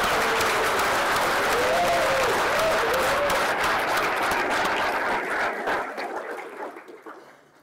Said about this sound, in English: Big round of applause and welcome back to all these Hall of Famers.